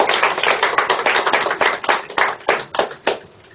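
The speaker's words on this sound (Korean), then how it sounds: "이것을 우리 한번 박수를 쳐야 됩니다." Audience applause at a Korean lecture hall talk, dense sustained clapping from many hands, loud and close, gradually thinning into separate claps toward the end, with no speech over it.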